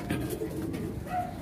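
A Jacobin fancy pigeon, a red splash direct-import cock, gives a soft low coo, short and fairly faint against background noise.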